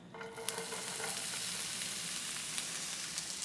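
Onions sauté in ghee in a deep skillet for Lebanese hushwee rice, giving a soft, even sizzle throughout after a sharp click near the start.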